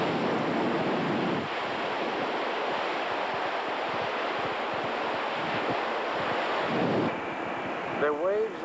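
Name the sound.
waves crashing against ship's bow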